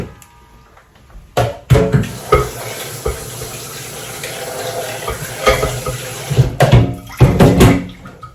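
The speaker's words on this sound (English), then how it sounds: "Add water and then I'll blend." Water splashes and pours into a blender in uneven bursts while making Nigerian akamu, with clattering handling noises between pours, close and fairly loud.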